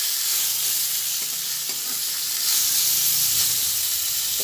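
Tender drumsticks tossed into a hot pan and frying, giving a steady, close, loud sizzling hiss throughout with a few soft stirring clicks beneath.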